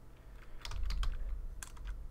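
Several quick keystrokes on a computer keyboard, soft close clicks in a short uneven burst over a low background hum.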